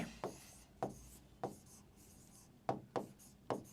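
Chalk or marker writes on a classroom board in a short accounting lesson: six to seven quick, close strokes come at an irregular rhythm, each a sharp scratchy tap, with no talking.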